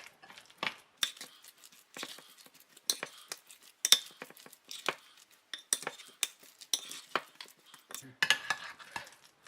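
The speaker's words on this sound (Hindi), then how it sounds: "इसे भी पकौड़े के बैटर के साथ अच्छे से मिक्स कर देंगे" Green chickpeas being mixed into pakora batter, a spoon or utensil clicking and scraping against a bowl in a steady run of sharp, close taps and scrapes with no talking.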